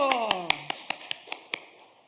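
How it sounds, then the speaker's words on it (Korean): Church congregation at a Korean Sunday worship service clapping in unison, about ten sharp evenly spaced claps in a quick steady rhythm, close and distinct, with a voice sliding over the first few beats. "할렐루야, 박수"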